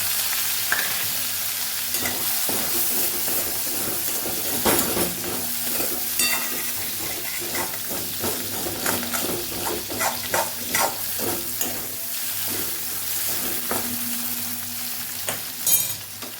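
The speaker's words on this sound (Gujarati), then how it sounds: "જીરું ઉમેરશું ટમેટાને પણ સાતડી લેશું" Tomatoes and cumin sautéing in a pan for a dry potato dish, a steady sizzle and frying hiss with repeated stirring scrapes and utensil clinks running throughout, close and fairly loud with no talking.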